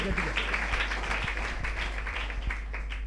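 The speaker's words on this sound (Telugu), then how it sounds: "కొట్టండి చప్పట్లు గట్టిగా" Sustained applause from a church audience during a sermon, a dense, steady wash of many hands clapping at moderate distance without any break, with a low hum underneath.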